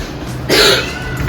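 A single harsh cough bursts out close by midway, sharp and short, against a quiet background.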